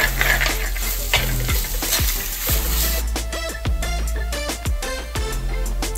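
Beaten egg and moringa leaves are stir-fried together, with a loud, continuous sizzle and a regular run of metallic spatula strikes ringing against the pan, about one per second.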